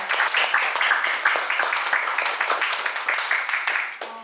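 Seminar audience on crane rigging accident prevention applauding, a dense burst of many hands clapping that fades toward the end as a voice begins.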